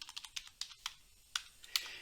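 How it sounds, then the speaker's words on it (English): Fingers tapping keys on a computer keyboard while entering data into an Excel spreadsheet, a quick run of close, crisp clicks followed by a few slower, more spaced keystrokes. "I'm just going to start off by typing location, and then I'm going to type Brooklyn"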